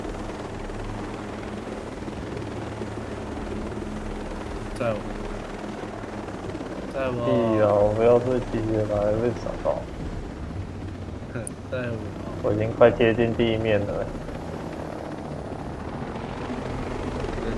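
A helicopter in the video game Tom Clancy's Ghost Recon Breakpoint: a steady rotor drone runs throughout with louder engine surges midway, while players talk over it.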